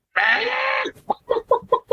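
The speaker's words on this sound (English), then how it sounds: "Chicken." A chicken lets out a drawn-out squawk followed by a quick run of five or six sharp, close clucks.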